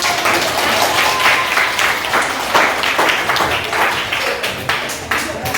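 Loud, dense clapping from a group at an academic supervision coaching session, sustained and close throughout with steady rhythmic hand claps.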